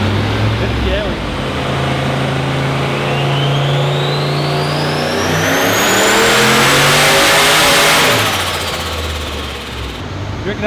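A turbocharged LS1 V8 in a Holden VY Ute revs hard on a dyno, pitch sweeping up to a loud sustained peak near the limiter and then dropping back. Voices talk over the roar.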